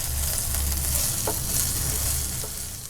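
A spoon stirs turmeric, rock salt and spices into potatoes frying in a pan for sabudana khichdi, with a continuous close sizzle broken by a few scraping strokes.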